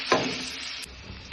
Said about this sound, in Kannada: ಆಮೇಲೆ ಇದೆಲ್ಲ ಚೆನ್ನಾಗಿ ಬೇಯಲಿ, ಸ್ವಲ್ಪ ಟ್ರಾನ್ಸ್ಪರೆಂಟ್ ಆಗೋ ಥರ ಚೆನ್ನಾಗಿ ಬೇಯಲಿದೆ